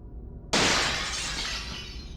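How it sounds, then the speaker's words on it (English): A glass window suddenly shatters at night, a loud, close crash of breaking glass after a quiet moment, with fragments and ringing trailing off over the next two seconds. "I woke up to the sound of my window shattering"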